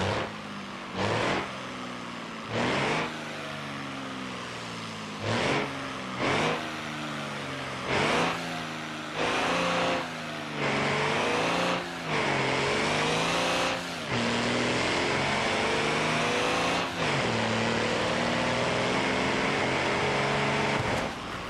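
Loud truck engine in the BeamNG driving game revving repeatedly, rising and falling in pitch with brief gear-change dips, a steady roaring rhythm throughout with no talk.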